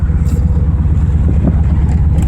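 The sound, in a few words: V8-swapped Mazda RX-7 engine accelerating in second gear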